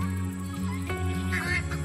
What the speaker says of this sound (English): The ducks are found their way into the garden.